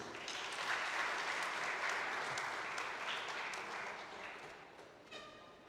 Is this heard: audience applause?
yes